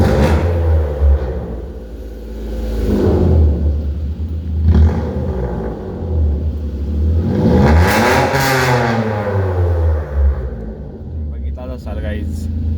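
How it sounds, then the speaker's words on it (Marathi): A car's exhaust rumbles and booms through an underground parking garage, the engine revved in several swells that echo off the concrete, with someone talking over it. "इथं खाली एवढा आवाज घुमतो एक्झॉस्टचा"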